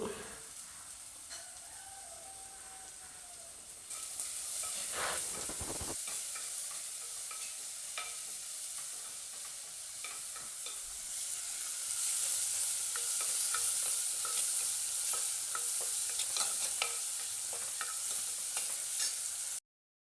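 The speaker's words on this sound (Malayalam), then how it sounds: "അതിലേക്ക് സ്വല്പം ഉപ്പും കൂടി ചേർത്ത് പെട്ടെന്ന് വഴറ്റിയെടുത്തു" Masala sautéed with salt in a pan, a steady sizzle with scraping and stirring strokes from a spoon, close and continuous, growing a little louder partway through.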